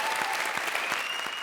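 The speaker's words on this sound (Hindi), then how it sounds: "इधर तालियां दो यार" A studio audience at a comedy show claps in a brief, steady burst of applause.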